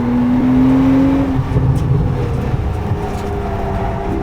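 A GT3 race car engine drones loud and steady from inside the cockpit on track, the pitch holding high then easing off as the car lifts through a corner.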